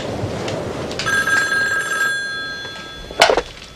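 A telephone bell rings in a single clear burst of about one second, sharp and fairly close indoors, over a low background rumble, followed by a brief louder knock or handling noise.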